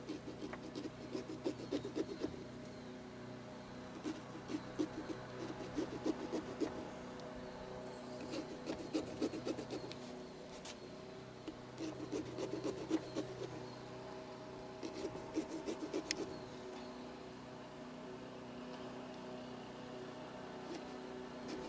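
A serrated pumpkin-carving knife saws through a pumpkin in repeated scraping, rasping strokes, faint and close, with rhythmic back-and-forth bursts over a quiet background.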